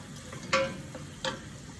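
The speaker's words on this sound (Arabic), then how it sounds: "بشوح البصل مع الزيت مع معلقه الزبده" Onion fries in oil and a spoonful of butter over a large burner, a soft low sizzle broken by two brief scraping stirs.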